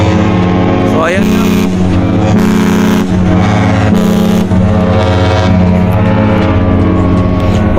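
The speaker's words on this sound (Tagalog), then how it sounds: "Ayun yung aming horn ng aming barko" A ship's deep, loud horn blasts repeatedly in long sustained tones over a steady engine rumble, with a brief rising whistle near the start, at night in San Diego, California.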